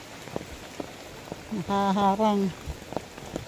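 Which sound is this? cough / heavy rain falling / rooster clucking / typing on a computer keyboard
heavy rain falling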